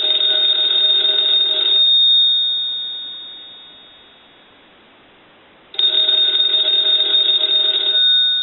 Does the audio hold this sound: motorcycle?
no